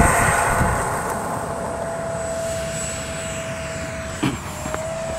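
Tuckie's model Avro Vulcan aircraft flies overhead with a steady, moderately loud engine drone and a sustained whine that holds even throughout, with a brief louder swell near the end.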